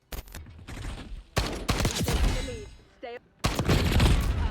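Gunfire in a console shooter game, fired one shot at a time at a slow rate: bursts of sharp reports come in separated clusters at moderate level, with a voice talking between them.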